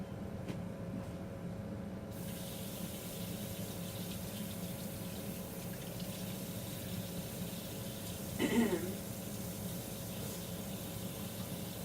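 Warm water runs steadily from a tap, a soft, continuous low-level splash heard alone, with a brief louder gush near the end.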